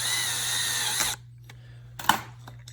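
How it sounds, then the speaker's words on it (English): A power drill whirs steadily, close by, as it drives an outlet terminal screw most of the way down during garage GFCI outlet installation. It cuts off abruptly, and a few faint clicks and a sharper tap follow. "Now we'll use the drill to tighten most of the way down."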